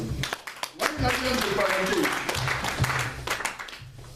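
A church congregation applauds and cheers in praise of Jesus, dense sustained clapping mixed with raised voices filling the space for several seconds.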